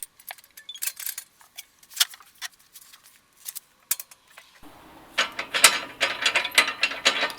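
A ratchet tightens the bolts of a muffler's bushings, rapid pawl clicks in short bursts that grow busier and louder toward the end, heard close with no talking.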